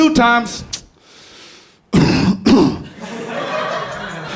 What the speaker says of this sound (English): Cough one time.